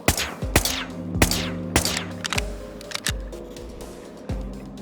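A character fires a weapon in the video game Whispers of a Machine: a run of loud, sharp shots at irregular intervals, each with a quick decaying tail over a low steady hum.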